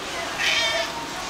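An adoptable shelter cat at a pet store gives one short, clear meow at close range over a steady background hiss.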